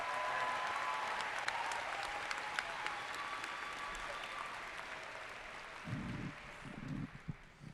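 A graduation audience applauds the school district superintendent at a high school ceremony: broad, sustained clapping from a large crowd in a big venue, with a voice beginning to speak near the end.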